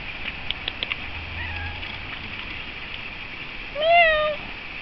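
A cat on a leash outdoors lets out one clear, drawn-out meow near the end, after steady quiet background hiss and a few faint clicks.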